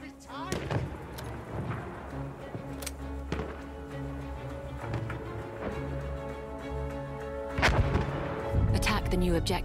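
Battlefield 1 enemy artillery barrage in a Rush match: repeated heavy booms and gunfire crack over a low rumbling battlefield din, with distant voices underneath, growing louder near the end.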